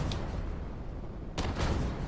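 A missile launching from a spaceship in Starfield: a faint rumble with a small crack early on, then a sudden loud whooshing blast that keeps roaring, with no voices over it.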